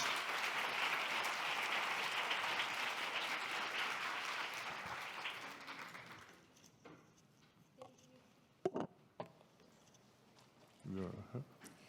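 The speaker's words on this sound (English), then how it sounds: "big applause for the panelists" Audience applause for the panelists at the close of a diplomacy forum session in Seoul, steady dense clapping for about six seconds that fades out, followed by quieter room noise and a few brief voices.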